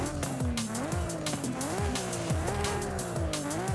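Toyota Supra engine in Forza Horizon 5 revving and racing, a close engine note rising and falling in repeated surges with tire squeal and game music underneath.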